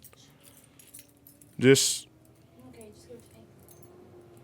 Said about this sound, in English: You got hella keys.